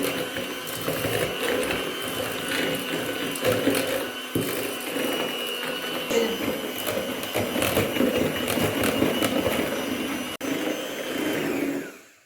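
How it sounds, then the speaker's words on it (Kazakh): An electric mixer beats eggs and sugar with a steady motorized whir and rattling beaters in the bowl, running continuously before cutting off at the end. "Жұмыртқа мен қантты жақсылап бірге миксерлеп аламыз."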